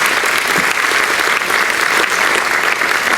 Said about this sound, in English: I would like to ask you to give Chloe another round of applause along with the SGA group